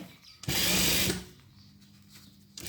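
A home sewing machine stitches in one loud, steady burst of about half a second, then stops, leaving a quiet room with faint handling noise.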